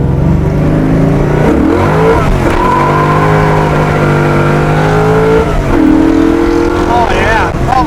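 A car on skinny tires accelerates hard, its engine loud and close, climbing in pitch and dropping at each gear change before pulling up again.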